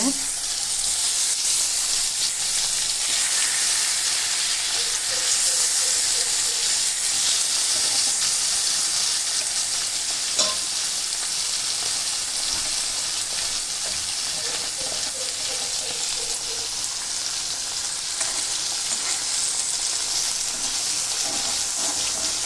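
Shellfish fry in hot oil with onions for a seafood curry, giving a dense, continuous close sizzle and hiss that holds steady throughout, with faint background voices.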